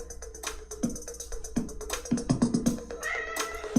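A domestic cat meows indoors, a series of short, fairly close calls in quick succession with a longer, drawn-out meow near the end.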